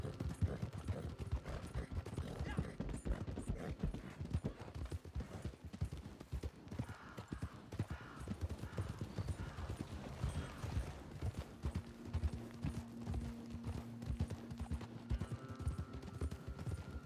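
Horse hooves in the video game Red Dead Online, a long quick run of rhythmic clip-clops from a moving horse, steady and fairly close throughout, with faint background game sounds and no speech.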